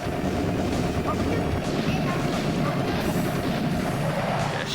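Rapid continuous gunfire and explosions from the arcade shoot-'em-up Metal Hawk, dense and unbroken, loud over the game's constant background din.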